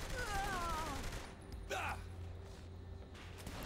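Gunfire from the video game Saints Row The Third, a few sharp reports and a short burst in the first half, under a voice, then a quieter stretch with faint background game sounds.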